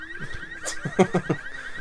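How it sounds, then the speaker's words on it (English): A car alarm in the video game Resident Evil 6 holds a steady, high electronic tone through the whole moment, with short bursts of other game sounds and voices over it. "Who set off the car alarm?"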